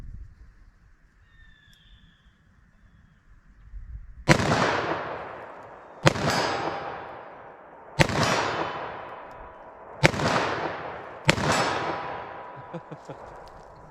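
Five sharp, loud gunshots from a .357 Magnum revolver with a 2-inch barrel, firing Winchester 110 gr ammunition outdoors at a range, each crack followed by a long fading echo, spaced about two seconds apart after a quiet lead-in.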